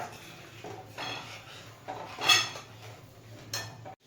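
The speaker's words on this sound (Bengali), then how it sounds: "চিনি দিলাম দুধটা ঘন হয়ে গেছিল মিশিয়ে নিলাম" A spoon scrapes and knocks against the side of a pot while sugar is stirred into thickened milk for Gokul pitha, soft intermittent stirring with a few sharper metallic clinks, close and fairly quiet.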